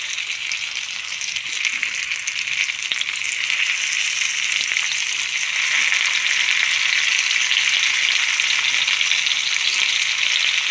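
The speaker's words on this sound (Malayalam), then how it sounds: "മീൻ വറുക്കാനുള്ള ചട്ടി വെച്ച് എണ്ണ ഒഴിച്ച് എണ്ണ ചൂടായി." Small white kora fish fry in a pan of hot oil, giving a dense, continuous hiss of sizzling that stays close and steady and grows slightly louder toward the end.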